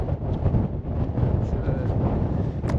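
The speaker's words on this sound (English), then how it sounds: "It's windy though." Gusty wind buffets the microphone on Cave Hill above Belfast, a loud, uneven low roar that swells and dips continuously, with no voices.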